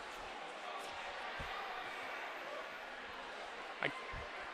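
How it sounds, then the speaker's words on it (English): A hockey arena crowd at a junior varsity high school hockey final keeps up a steady, distant roar, with a couple of brief thuds and a rising whistle-like cry near the end. "And you hear this crowd."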